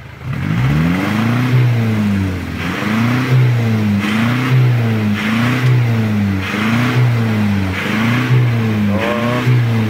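An Isuzu Crosswind engine, which burns oil and smokes heavily, revs repeatedly in rhythmic bursts at the exhaust, rising and falling about every second, loud and close with no talking.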